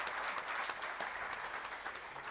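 Audience applause at a provincial education awards ceremony, steady broadband clapping from a moderate-sized crowd, sustained evenly for a couple of seconds at a fairly distant, moderate level.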